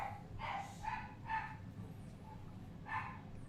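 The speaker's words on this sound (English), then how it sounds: "My dogs are going nuts for some reason" Several dogs bark in short, sharp bursts, roughly four separate outbursts spaced across a few seconds, moderately near against a low indoor hum.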